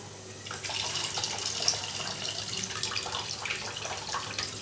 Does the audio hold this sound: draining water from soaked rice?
yes